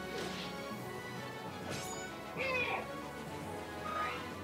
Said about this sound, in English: I'm pretty sure you guys can hear my cat